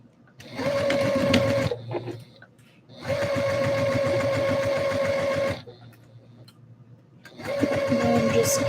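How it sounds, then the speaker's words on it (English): Sewing machine stitching a seam at a half-inch allowance, running in three bursts of steady whirring hum separated by short pauses, close and clear. "And then sew it at 1/2 inch seam allowance."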